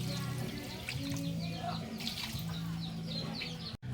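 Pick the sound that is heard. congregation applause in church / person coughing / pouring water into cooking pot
pouring water into cooking pot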